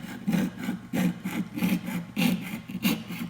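A hand saw cuts into a corner of a wooden workpiece, with close, rhythmic rasping strokes, about a dozen back-and-forth pulls in quick, even succession.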